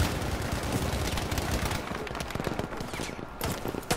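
Heavy Battlefield V firefight in Firestorm mode, with Kar98k and StG44 weapons in play: dense, continuous machine-gun and rifle fire with sharp close shots layered over distant bursts, loud and unbroken.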